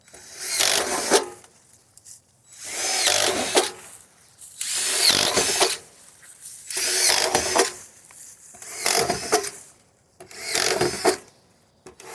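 A power drill bores aeration holes into the side of a plastic compost barrel in six or seven separate bursts, each whining a second or two, separated by short pauses, close and fairly loud with no talk.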